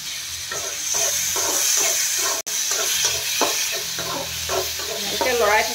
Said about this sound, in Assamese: এনেকৈ লৰাই থাকিব যাতে কেৰাহীত লাগি নাযায়।